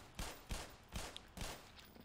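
Gunshots in the video game Black Mesa ring out as four sharp, evenly spaced blasts, each with a short echoing tail, loud and close with no talk.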